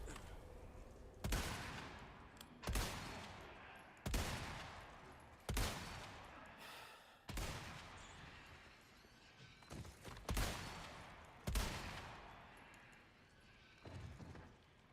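Gunfire in the Resident Evil 4 Remake video game: about nine loud, sharp shots spaced roughly one to one and a half seconds apart, each followed by a short decaying tail, with no talk.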